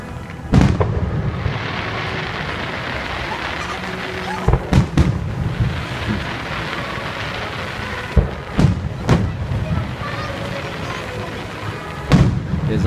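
Fireworks burst over Magic Kingdom at Walt Disney World in Florida, with several sharp booming explosions spaced irregularly over a constant windy, crowd-filled rumble, heard from a distance.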